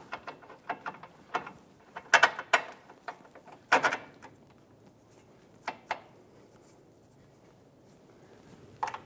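Front lower control arm bolts on a 2007-2011 Toyota Camry, cleaned and coated with anti-seize, being fitted and started by hand: scattered metallic clicks, clinks and scrapes come in irregular bursts, with a few sharper knocks and no talking.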